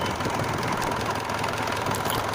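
A 2013 Mahindra 575 DI tractor engine runs at a steady idle, a constant close rumble with a faint knocking texture and no pauses.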